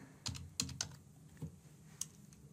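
Keys tapped on a computer keyboard to enter test card payment details, a few separate clicks and short bursts spaced irregularly, close and fairly quiet with no voices.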